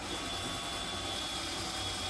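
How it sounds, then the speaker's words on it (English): A drill with a 5/32 bit boring into hardwood whirs continuously at a steady pitch, a loud, even mechanical grind that never lets up. "we're gonna drill through using a 5/32 drill bit"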